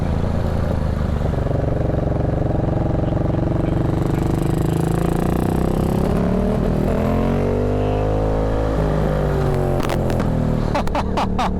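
A Yamaha MT-07 motorcycle engine running rough, a loud close droning rumble that rises and falls with throttle, ending in a few sharp clattering pops.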